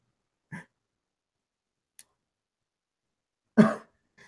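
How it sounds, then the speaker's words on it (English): A few isolated coughs in a quiet room, two short ones spaced apart with a louder, harsher cough near the end. "Cough, cough."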